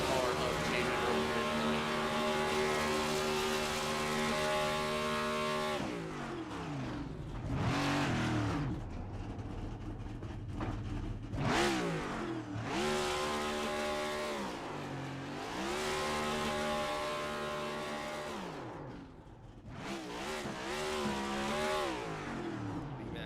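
Race car engine revving hard in a video game burnout celebration after the 98 car wins at New Hampshire Motor Speedway, steady roaring engine tone with repeated rev surges and dips, talk running under it throughout.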